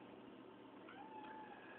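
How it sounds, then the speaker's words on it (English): A cat gives a single faint, drawn-out meow that rises and falls, quiet and somewhat distant against a steady low background hiss. "Crazy cat."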